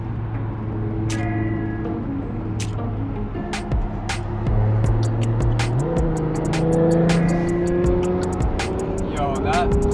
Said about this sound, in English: It's just the V12 never gets boring, guys.